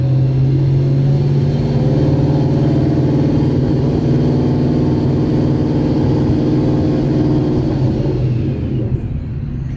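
A Ford Mustang S197 with a manual gearbox drives and accelerates, its engine giving a loud, steady, throaty rumble heard from inside the car throughout, with no talking.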